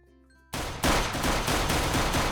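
Gunfire in the Minecraft video game breaks out suddenly after a short quiet stretch, then rattles on as dense, loud automatic bursts without pause. No voices.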